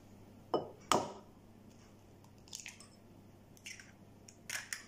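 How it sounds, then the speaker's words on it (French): Two eggs cracked into a bowl and beaten for an omelette-style muffin batter: two sharp taps near the start, then scattered light clinks and wet squishes of a utensil against the bowl, fairly quiet with no talk. "dans le bol, je vais casser les 2 œufs. Je vais les battre en omelette."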